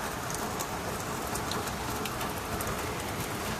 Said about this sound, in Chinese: 一大早就下大暴雨